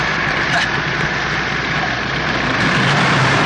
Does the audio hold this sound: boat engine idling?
yes